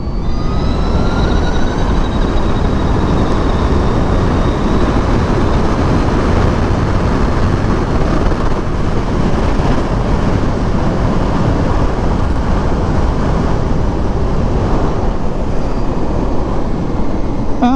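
A Harley-Davidson LiveWire electric motorcycle in sports mode, rolled on hard from about 95 km/h on a road in Australia, heard as a steady loud rush of wind and whine with a faint rising electric tone.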